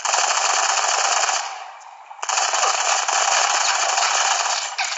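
A KOG Mk.V gun in the shooter Modern Combat 5 fires loud, sustained automatic bursts that dip briefly before the firing resumes.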